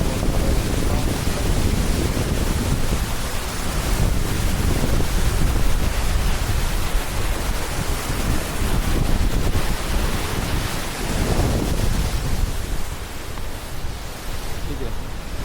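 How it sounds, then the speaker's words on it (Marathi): Floodwater surges with force past the Ter dam in a continuous, loud, broadband roar, with wind buffeting the microphone throughout. "हे बघा पूर्ण पाणी बघा किती प्रेशरने वाहत"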